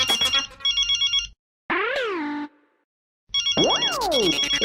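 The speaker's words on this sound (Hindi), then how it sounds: "यार ये बॉस का फोन," A mobile phone ringtone plays in a comedy scene, loud and close, with a melodic electronic jingle, a brief gap, a sliding warble, another pause, then the jingle and a swooping tone again.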